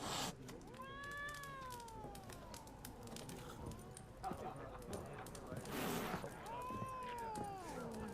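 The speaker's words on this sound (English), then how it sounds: "What's wrong with this cat?" A cat in the video game The Witcher 3 meows twice, with a drawn-out cry near the start and another near the end, over a low ambient game background.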